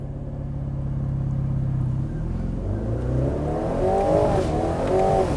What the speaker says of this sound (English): Okay, that's a launch.